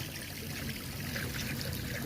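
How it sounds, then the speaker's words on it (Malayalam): Water pours steadily down an artificial waterfall at a large eco park where ducklings swim, a dense, continuous rushing splash close by with no voices. "അടിപൊളിയായിട്ട് വെള്ളം ഒഴുകണേ കണ്ടോ"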